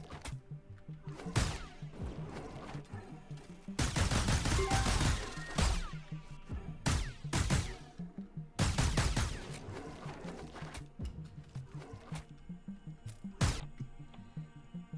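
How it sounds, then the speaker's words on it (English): A squad in the video game Dust Walkers lets off semi-automatic gunfire: irregular clusters of sharp shots, some dense and sustained, others single cracks spread out, at moderate loudness with no talking. "Having a squad shooting some semi-automatic fire."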